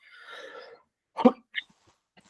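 Faint talk fades out, then a single sharp cough close by, followed by a smaller throat sound.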